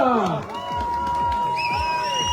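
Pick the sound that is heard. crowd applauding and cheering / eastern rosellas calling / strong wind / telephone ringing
crowd applauding and cheering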